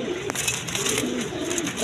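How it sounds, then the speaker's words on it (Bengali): A pair of big, newly adult shalo pigeons coo softly and repeatedly, close by, with a faint hum of background noise. "এক পেয়ার আপনার শ্যালো কবুতর আছে দেখেন"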